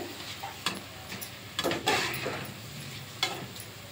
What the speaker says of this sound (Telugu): ఇలా బాగా కలిపేయండి.